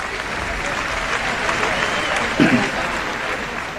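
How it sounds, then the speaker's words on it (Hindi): A mushaira audience in Dubai applauds, a dense and steady wash of clapping from a large crowd filling the whole stretch, with a brief louder burst near the end. "अपने लिए भरपूर तालियां बजा लीजिए।"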